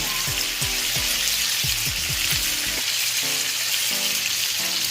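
Salmon searing in a pan over low heat, giving a close, steady sizzle with a dense crackle and short low knocks of a utensil or pan scattered throughout. No one speaks.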